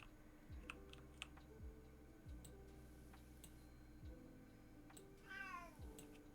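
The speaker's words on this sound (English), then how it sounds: "She is a kitten." A kitten meows once near the end, a short rising cry over steady low music and faint clicking like typing.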